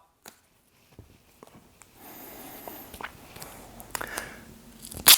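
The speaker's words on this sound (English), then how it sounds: "Take a pair of scissors and cut it on the top." Scissors snip through bandage wrap on a sprained ankle with a few scattered crunchy cuts, close and fairly quiet, then a louder rustle at the end.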